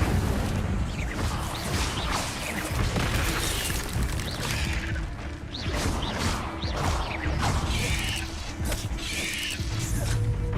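Incendio fire spell cast in Hogwarts Legacy: dense, roaring whooshes and crackling bursts that run without a break, loud and close, layered over game combat noise.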